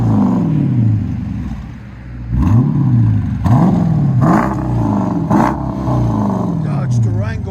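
A Dodge Durango with an X-pipe exhaust and 5-inch tips revs repeatedly, producing deep, loud rising and falling engine swells close by, with brief idle dips in between.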